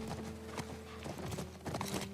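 A horse gallops in The Last of Us remake on Grounded difficulty, with rapid rhythmic hoof clip-clops over low game ambience and a musical drone.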